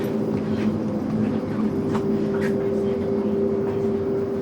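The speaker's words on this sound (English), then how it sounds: "We're on an airplane." Cabin of an airliner in flight carries a steady low engine and air hum with a constant tonal drone, while faint voices and brief rustles surface now and then above it.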